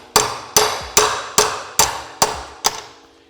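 A hammer strikes a tapping bar to knock herringbone flooring planks together indoors, seven sharp, evenly spaced knocks at about two per second, each ringing briefly, with no talking.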